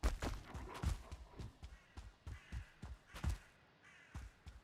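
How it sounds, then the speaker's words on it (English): Crows caw in the Valheim video game, a run of repeated sharp calls at an uneven rhythm, moderately loud and close, with no talking over them. "Crows are getting quieter."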